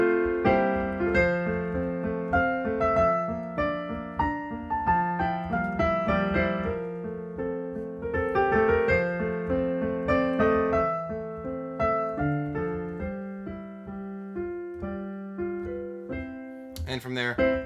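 Solo piano plays a section of Für Elise, a flowing run of single notes over a sustained lower accompaniment, steady and close, with a brief noisy touch at the very end.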